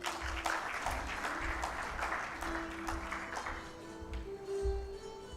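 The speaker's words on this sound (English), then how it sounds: "Let's give a big round of applause." Sustained applause from a summit audience in a large hall, dense and steady throughout with a slight lift near the end, no talking over it.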